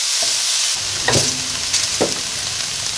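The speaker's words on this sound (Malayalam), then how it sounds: "ഉപ്പും ചേർത്ത് കൊടുത്ത് നല്ല ഹൈ ഫ്ലെയിമിൽ കുക്ക് ചെയ്തെടുക്കാം." Vegetables with salt stir-frying in a pan over a high flame, a steady close sizzle with a couple of soft stirring scrapes and clatters.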